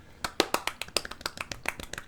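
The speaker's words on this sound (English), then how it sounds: "applause for Dan" A small group applauds a person named Dan, giving quick uneven hand claps close by, about a dozen sharp claps over two seconds with no voices.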